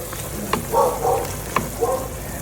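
Beef papaitan simmering in a pot gets stirred, with a soft ongoing sizzle, a few sharp scraping clicks of the utensil against the pot, and short stirring swishes in between.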